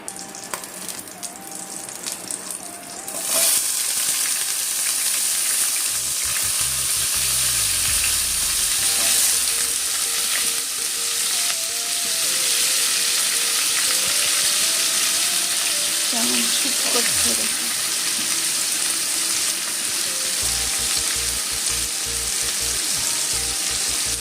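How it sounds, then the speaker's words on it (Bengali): Papaya fries in a pan of oil tempered with black cumin and green chili, with a loud, bright sizzle that flares as the pieces go in, then settles into a constant crackling hiss with a few stirring clatters. "এবার আমি এর মধ্যে পেঁপেটা দিয়ে দেবো ভাজার জন্য"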